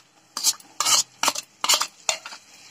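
A utensil scrapes and stirs chopped chili and tomato into egg tarka in a pan, five distinct close strokes in a quick uneven rhythm over a faint background hum.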